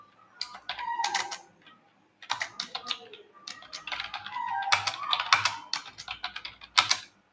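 Rapid, uneven keystrokes clatter on a computer keyboard during a data-entry typing test, close and fairly quiet, in short runs separated by brief pauses.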